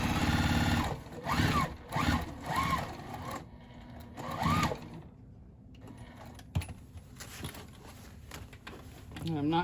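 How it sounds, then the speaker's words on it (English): A domestic sewing machine stitches the sides of a tote bag in several loud, close bursts of rapid mechanical whirring, separated by short pauses and quieter handling noises. "now I'm just going to sew the tote bag together. Down the sides and up the other side."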